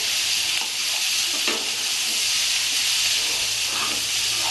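Raw jackfruit stir-fried in a pan with small splashes of water, giving a loud, dense, continuous sizzle and hiss with faint scraping of the stirring spoon, close and alone.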